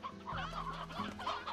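Chickens in the video game Slime Rancher cluck in a short burst, several quick close clucks over a low steady hum.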